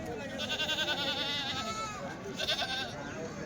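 Goats bleat in two quavering calls over a constant noisy background with murmuring voices at a weekly goat market in Kadiri.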